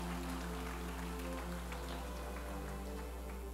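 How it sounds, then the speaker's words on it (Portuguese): A church congregation applauding, a dense, steady patter of many hands at moderate distance, mixed with a low constant hum and held tones beneath. "Aplaude a Jesus, querido."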